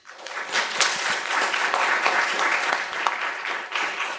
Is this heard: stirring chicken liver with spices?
no